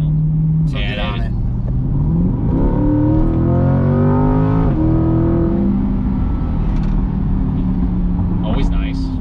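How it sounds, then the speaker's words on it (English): A 2020 C8 Corvette engine roars and revs up through the gears, loud exhaust rising in pitch, heard from inside the car. "I love that exhaust"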